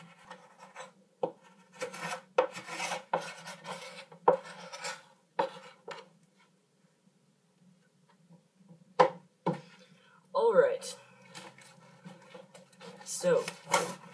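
Old wax is scraped off a surfboard in short, rasping strokes that come in bursts with pauses, close up, under a low steady hum, with a voice speaking briefly among the strokes.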